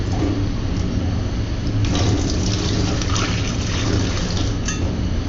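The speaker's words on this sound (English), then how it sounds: "Filling the pot up with water" Water pours steadily from a one-liter Stansport Solo stainless steel cook pot, a continuous close splashing stream with no talk.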